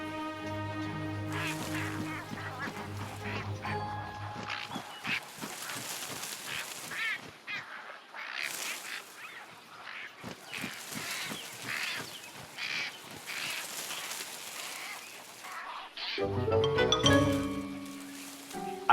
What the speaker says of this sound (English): Little egrets are by far the noisiest of the species.